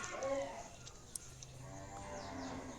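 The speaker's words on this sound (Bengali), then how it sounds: "দুই দাঁতের একটা গাভী সুন্দর একটা গাভী" A young Sahiwal-type dairy cow on a farm gives a low, drawn-out moo, fairly soft against a quiet rural background.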